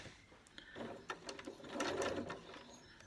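A sewing machine stitches bias binding toward a corner in a brief, close, rhythmic run of needle strokes that builds and then slows.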